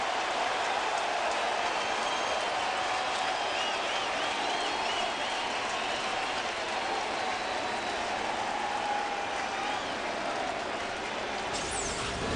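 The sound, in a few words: baseball stadium crowd cheering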